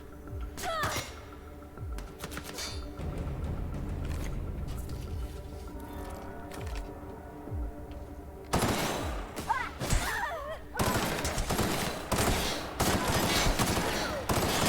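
Gunfire in The Outer Worlds, with bursts of rapid shots and sharp single cracks coming in clusters over a game soundtrack, some close and loud, with voices calling out between the volleys.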